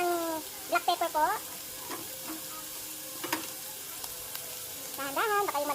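Spam seasoned with black pepper sizzles in a pot as it is sautéed and stirred, a steady close frying hiss broken by scraping stir strokes and a few high squeaks, with no one talking.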